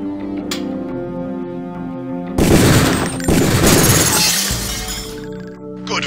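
Gunfire on a training rifle range in the video game HX, a loud close burst of rapid shots with sharp impacts over a steady electronic tone, then quieter shots, with no talk.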